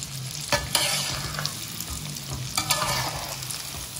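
Betawi biji ketapang dough frying in hot oil with a steady sizzle, broken by a few scraping stirs of a utensil against the pan, close and continuous.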